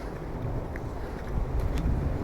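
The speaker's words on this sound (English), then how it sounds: "it's actually windy out here" Wind gusting across the microphone on a nature trail in a South Florida pineland park, a steady low rumble that swells slightly toward the end, with no talking.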